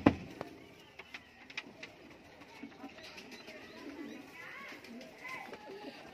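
Teddy pigeons cooing in a loft, soft repeated coos and faint wing and cage rustles with occasional sharp knocks, someone talking over them.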